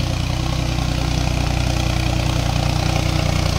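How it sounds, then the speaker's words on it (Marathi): A New Holland 4x4 tractor engine runs close and loud with a steady, even diesel throb and no change in pace throughout. "4x4 न्यू हॉलंड ट्रॅक्टर आहे."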